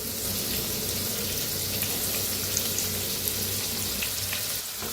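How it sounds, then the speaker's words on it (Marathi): Chopped onion with cumin, asafoetida and curry leaves fries in a new kadai, a dense, continuous hiss of sizzling oil held at an even level throughout. "कांदा छान असा भाजून घ्यायचा"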